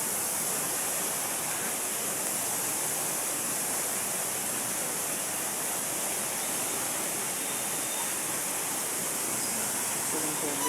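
Strong water rushes and churns steadily, a dense broadband roar like a flooded channel or waterfall, loud and continuous throughout with no pauses; no clear talk over it.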